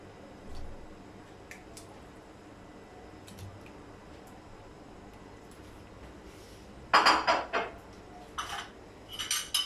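Soft clinks and wet squishing as pieces of beef are dropped into a metal pressure cooker, followed by louder scraping and clattering bursts near the end.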